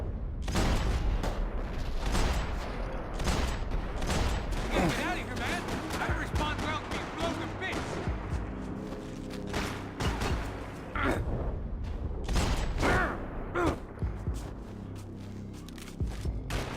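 Gunfire and grenade launcher blasts in the third-person shooter Max Payne 3, with repeated sharp shots and heavier booms scattered throughout, partly under someone talking.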